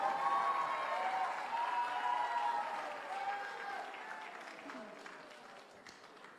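A crowd applauds a Myanmar Star prize winner at a trophy presentation, with sustained clapping that slowly fades over several seconds while faint voices mix in.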